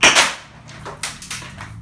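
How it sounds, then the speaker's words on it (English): An airsoft grenade launcher mounted on a modified M41A pulse rifle fires with a loud, sharp opening pop, followed by a few quieter, crisp snaps as the shot strikes a target a short distance away. "And then the grenade launcher."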